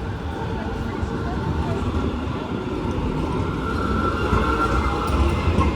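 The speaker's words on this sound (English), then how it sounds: "here comes another Strassenbahn, so we will wait our turn" A tram rumbles past nearby on a Frankfurt street, a steady low rolling drone with faint rail noise throughout and a few voices in the background.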